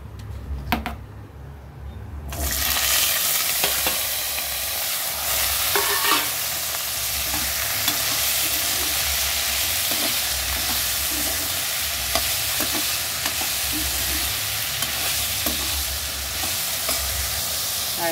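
Cut potatoes go into hot oil with nigella seeds and torn green chillies. After a quieter moment, a loud, steady, close sizzle begins and continues, with stirring scrapes running through it.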